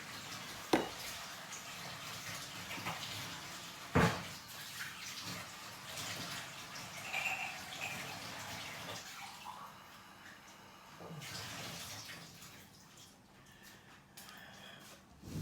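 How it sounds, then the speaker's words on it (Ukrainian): Running warm tap water pouring steadily into a cup, a continuous splashing rush with a couple of sharp clinks, nearby and fairly quiet. "Ми набрали таке горнятко води"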